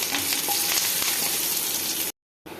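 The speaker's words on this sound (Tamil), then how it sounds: "அப்படி வதக்கிக்கிடுங்க." Garlic, mustard seeds, cumin and curry leaves sauté in a kadai for a Saravana Bhavan-style chutney, giving a steady, close, dense sizzle that holds evenly for about two seconds, breaks off briefly, then comes back.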